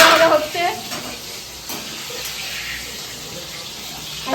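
Food frying in a pan during wedding cooking, a brief soft sizzle with some stirring and a faint watery hiss in the background.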